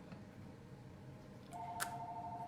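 A phone gives a faint, steady electronic tone that begins partway through and holds to the end, over quiet room noise at a craft table.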